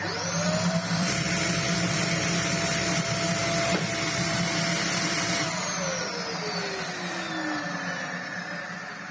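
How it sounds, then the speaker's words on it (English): A Dyson DC07 upright vacuum cleaner with floor tool, running poorly, runs close by with a loud, steady, peaky whirring roar, its motor pitch briefly rising then sliding back down toward the end. "DC07 brush control Hepa Plus with floor tool vacuum cleaner."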